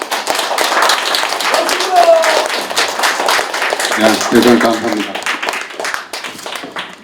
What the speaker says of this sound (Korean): 장시간 경청하신 그 여러분께 모두 함께 큰 박수 부탁드리겠습니다.